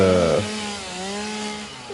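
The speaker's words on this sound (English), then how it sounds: "we're supposed to go back and use the chainsaw" A chainsaw in the factory-building video game Satisfactory revs loudly at first, then settles into a steady, slightly wavering buzzing drone that runs on alone for about two seconds.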